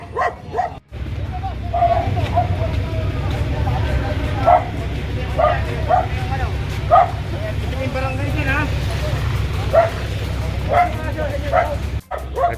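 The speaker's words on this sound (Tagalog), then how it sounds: "May mga aso pa dito." Several dogs bark and yip repeatedly near a street parking area covered by a tarp, their barks loud and close over a constant low rumble of traffic and other street noise.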